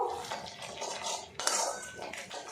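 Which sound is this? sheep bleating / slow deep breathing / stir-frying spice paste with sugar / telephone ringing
stir-frying spice paste with sugar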